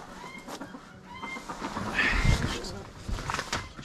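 Dwarf chickens cluck softly on a farm, with a few brief, faint calls scattered through the clip and a person talking quietly nearby.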